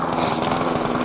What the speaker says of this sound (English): Somebody's mowing the lawn.